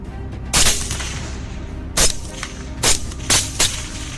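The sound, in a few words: gunshots from hunting wild boars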